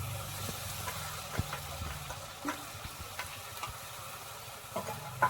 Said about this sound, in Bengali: বাঁধাকপি পেস্টটা দিয়ে এই মশলার সঙ্গে একটু মিশিয়ে নেব। আর 2 মিনিট মতো একটু ভেজে নেব